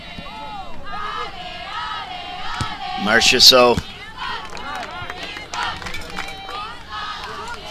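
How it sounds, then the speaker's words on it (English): Quebec fans in a large crowd at a football match against Manitoba make a constant murmur under a commentator's voice, swelling into a brief, louder cheer midway before settling back. "You can hear the Quebec fans."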